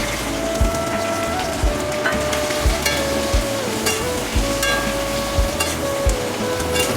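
Chopped onions fry in hot oil over chillies for a Bengali green tomato bhaji, a steady close sizzle broken by regular scrapes and taps of a spoon stirring the pan, with no talking.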